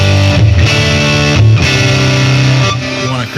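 Electric guitar played through a Joyo amp with distortion, ringing out loud, sustained overdriven chords that change a few times, each held and bleeding into the next with brief gaps between.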